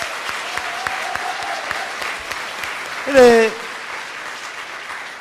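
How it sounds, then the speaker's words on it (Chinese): A church congregation at a Sunday service applauds, a moderate, steady spread of clapping through the hall, with a person talking over it and a brief louder burst of voice partway through. "我们也用拍手来谢谢他"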